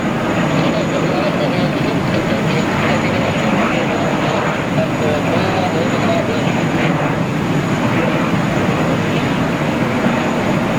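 Singapore Airlines jet airliner at New York JFK Airport, a loud, steady broadband engine roar that holds evenly throughout at a distance, with no speech.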